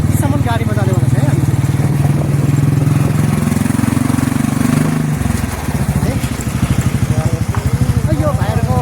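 Motorcycle engine running steadily nearby on a road up to the old Changu Narayan temple in Nepal, a loud continuous idle-like drone that shifts pitch midway, with people talking over it.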